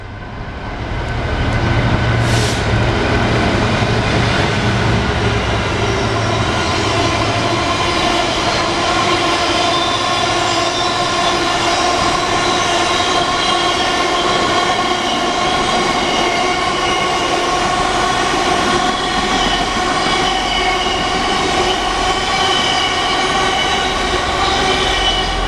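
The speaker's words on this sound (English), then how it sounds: "Cleethorpes train in the distance and the freight coming through." A freight train rumbles through Barnetby station, near Cleethorpes, loud and continuous with a sustained low drone and engine tones, a brief high whistle-like tone near the start, no voices.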